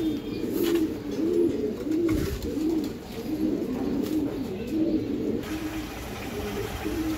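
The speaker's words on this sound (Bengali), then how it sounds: "এইখানে এক পেয়ার কবুতর আছে" Racing Giribaz pigeons coo in a steady, repeated rolling rhythm, moderately close and continuous, with a faint high hiss and light background noise throughout.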